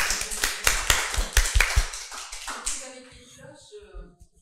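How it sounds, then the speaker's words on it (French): Applause from an audience at a food industry sector event, a burst of claps up close that thins out and fades over a few seconds. "Et on peut l'applaudir."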